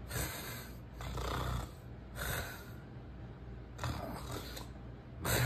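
Loud, rhythmic snoring close by, several rasping breaths in a row with short pauses between them.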